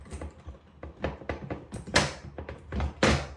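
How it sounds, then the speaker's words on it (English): A fork clamp bolt on a scooter bar is tightened, a series of sharp ratcheting clicks and metallic creaks in uneven bursts, close up with no talking. "Now I'm going to tighten up that fork and clamp, okay?"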